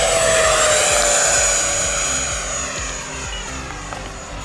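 Radio-controlled JAS-39 Gripen jet with a 70mm electric ducted fan, flying at full throttle: a loud, steady high-pitched whine that fades slightly as it passes, with a rumbling undertone.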